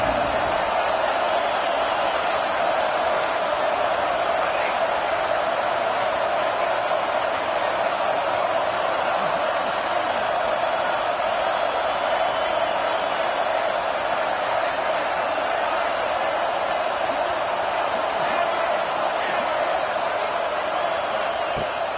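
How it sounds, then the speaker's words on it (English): A football stadium crowd roars steadily on a third-down defensive play, a dense and constant wall of noise that holds at high volume throughout. "Decibels rising as the crowd gets behind this defense on 3rd down."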